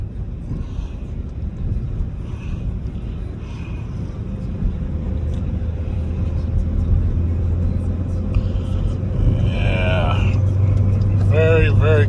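A car engine idling while warming up, a steady low rumble that grows slightly louder over time, with a person talking over it throughout.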